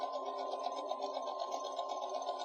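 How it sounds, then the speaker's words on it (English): Sewing machine stitching rapidly in a steady, fast, even buzz with no pauses, heard close and alone. "It's kind of like speed sewing here."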